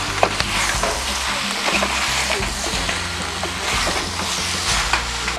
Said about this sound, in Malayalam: കുറച്ച് നേരം നമുക്ക് ഇളക്കണം.